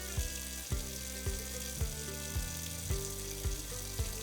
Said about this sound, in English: rub your hands palm to palm with fingers interlaced